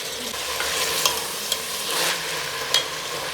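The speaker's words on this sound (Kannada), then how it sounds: "ಈರುಳ್ಳಿ ಫ್ರೈ ಆದ್ಮೇಲೆ ಟೊಮ್ಯಾಟೊ ಹಾಕೊಂತ ಇದ್ದೀನಿ." Onions and tomatoes fry in a pan for a vegetable pulao, giving a steady close sizzle with a few sharp clicks of a utensil stirring through the mix.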